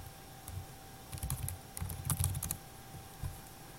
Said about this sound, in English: So if I typed in nytimes.com right here